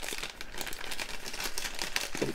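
Packaging of a vintage 1990 He-Man Bolajet toy being unwrapped, a close, continuous crinkling and rustling of plastic wrap with a few sharper crackles, no talking.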